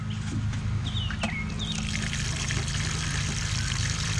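Water pouring and splashing steadily onto very dry ground that does not soak it up, with a low hum beneath and a bird chirping briefly in the distance.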